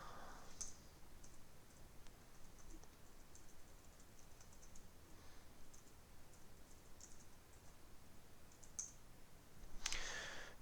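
Code is typed on a computer keyboard, producing faint, continuous soft clicking with a few slightly louder key taps and a brief louder flurry near the end, with no talking.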